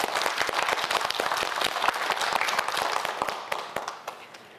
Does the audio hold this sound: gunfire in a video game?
no